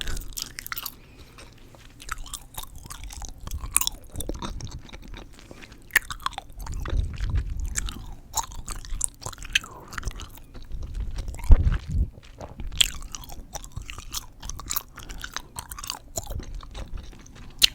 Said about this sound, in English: this gum has gotten hard as heck.